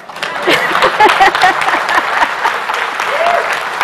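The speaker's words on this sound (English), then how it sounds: "Please clap for me." An audience claps for a speaker at an industry and innovation event, a loud, close burst of clapping with a few voices calling out over it.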